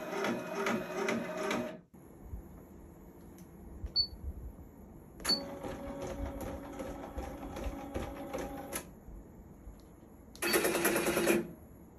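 Industrial embroidery machines, a Happy Japan HCS2, Voyager and HCU, perform a thread cut: bursts of rapid mechanical clattering and whirring start and stop, with brief beeps and clicks between, close and clear.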